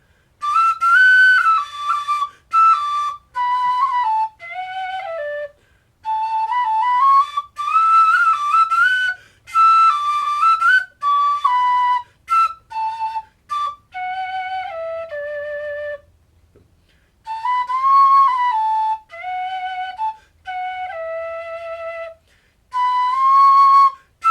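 A homemade PVC alto whistle in A plays a melody alone, with clear sustained tones in short phrases separated by brief pauses, close and fairly loud, slightly airy.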